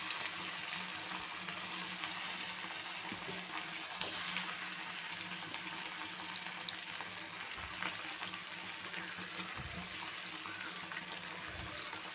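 Sprat fish frying in a pan with a steady, hissing sizzle throughout, broken by a few soft knocks and stirring sounds, fairly close and without talk.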